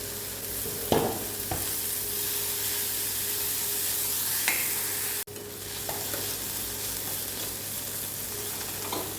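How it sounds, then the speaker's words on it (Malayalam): Chopped spinach and onion sautéing in a pan, a steady close sizzle with occasional scraping stir strokes and a brief clatter, no voices. "സവള വേണ്ടി വന്നതിന് ശേഷം നമുക്ക് അരിഞ്ഞു വെച്ചിരിക്കുന്ന ചീര ചേർത്ത് ഒന്ന് വഴറ്റിയെടുക്കാം"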